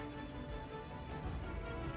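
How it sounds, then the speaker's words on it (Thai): Steady rain in Project Zomboid, a soft continuous patter with faint scattered ticks, fairly quiet and without talking. "เสียงฝนช่วยทำให้เขาเดินมั่ว มั่วมากขึ้นนะ"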